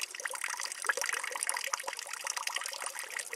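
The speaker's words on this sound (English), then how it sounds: "Natural spring water you can drink." Natural spring water trickles steadily from a tube into a barrel outdoors, a continuous close splashing dribble with no talk over it.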